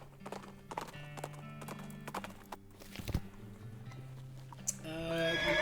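A horse's hooves clip-clop in a steady riding rhythm in West of Loathing, with sharp percussive hits and a brief whinny, ending in a brighter musical flourish.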